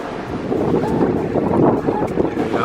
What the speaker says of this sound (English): Sailing along the north coast of St. Helena